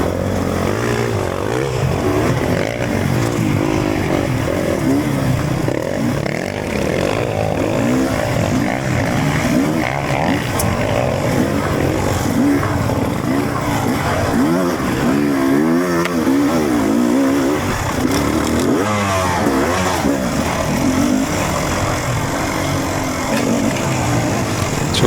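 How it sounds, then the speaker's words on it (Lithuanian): Loud motorcycle engines snarl continuously through a cross country race, with close revving and gear changes, rising and falling engine pitch and other bikes roaring nearby, with no talking. "Girdžiu iš galo, motoras dirba,"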